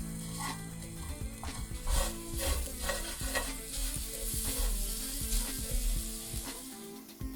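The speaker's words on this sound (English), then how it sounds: "Stir everything well." Potatoes seasoned with salt, paprika and black pepper sizzle in a skillet while a utensil stirs them, scraping and knocking in a steady close rhythm over a continuous frying hiss.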